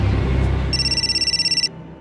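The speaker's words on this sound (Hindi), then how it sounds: "घंटी बजी।" A telephone rings with a bright electronic trill, one burst of rapid pulsing tone lasting about a second over a low background hum.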